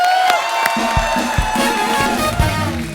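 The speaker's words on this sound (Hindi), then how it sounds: "एक बार जोरदार तालियां" A television comedy show's studio audience claps and cheers loudly and steadily, the applause running throughout under a music backing with occasional low thumps.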